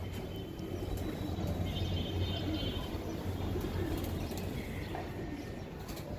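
Giribaz high-flyer pigeons, including a red-necked pair, coo softly and steadily nearby, with faint chirps over a constant low background.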